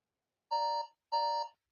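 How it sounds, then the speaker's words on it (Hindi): Two short, bright electronic beeps from a quiz countdown timer signal time running out, evenly spaced and clean against silence. "और आपका 10 सेकंड का टाइमर शुरू हो गया है भाई"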